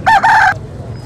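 A chicken crows at a Sunday bird market in Lahore, giving one loud, close call of about half a second in two strained bursts, followed by quiet market murmur.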